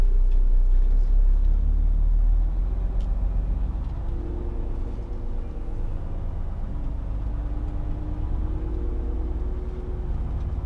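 A car slowly reverses into a marked loading bay in a parking lot, its engine a steady low rumble close by, with no talk.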